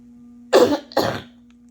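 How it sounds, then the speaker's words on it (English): Two quick, sharp coughs close to the microphone, about half a second apart, over a faint steady hum. "Had to cough, and I didn't think you guys needed your ears blown out."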